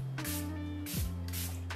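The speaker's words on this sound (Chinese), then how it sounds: "最后完妆我也再喷一次这个定妆喷雾。" Makeup setting spray misted over a finished face in a few short, close hissing bursts separated by brief pauses, with a faint steady hum underneath.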